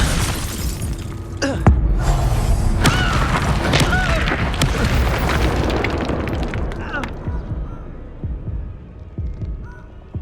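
Expulso blast spell from Hogwarts Legacy erupting in a loud booming burst with shattering debris, followed by a rumbling crackling tail that slowly fades, with more impacts scattered through.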